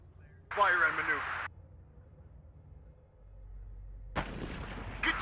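Artillery and gunfire boom in the WARNO battlefield game: a loud burst early on, then a lull, then more heavy blasts near the end, with a radio-style voice cutting in.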